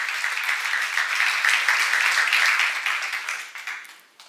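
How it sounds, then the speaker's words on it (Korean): A congregation at a Jesus-centered church seminar claps together in a bright, even burst of applause lasting a few seconds before it tapers off. "박수하세요."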